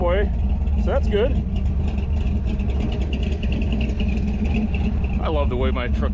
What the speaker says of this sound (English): I love the way my truck sounds.